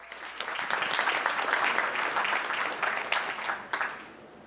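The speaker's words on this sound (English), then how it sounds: "Big round of applause for that." Applause from the audience at a town council meeting, a full burst of many people clapping that swells in and holds steady for several seconds before thinning at the end, heard without speech.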